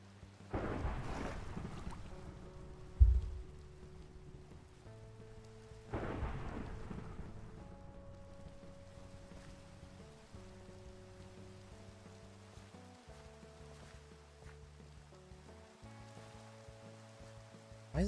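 Two heavy thunder crashes in a video game storm, one near the start and another about six seconds in, each rolling off into a long rumble over steady rain and a soft musical drone.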